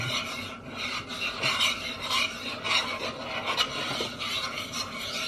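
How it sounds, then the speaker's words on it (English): A spoon or spatula stirs peanut butter and lard in a pot as they melt, giving a steady, close scraping and rubbing sound that continues without pause and with no talk. "Keep stirring the peanut butter and the lard until all the peanut butter is melted"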